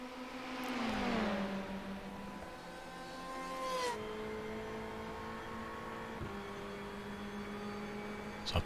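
Simulated IMSA race car engines at Road America in iRacing, a steady loud engine note that drops pitch around a gear change, then holds a sustained rising whine with harmonics; no talking.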